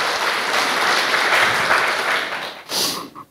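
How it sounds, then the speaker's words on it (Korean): A studio audience at a Korean broadcast claps warmly in a dense, steady burst that fades, then a short final flurry of claps rises and dies away. "박수 좀 잠깐 주실까요?"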